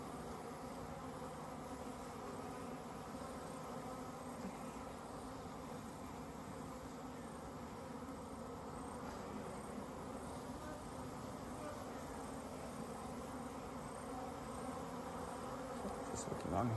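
Honey bees humming over an open hive during an inspection, a faint, dense, continuous buzz from many insects close by, steady throughout.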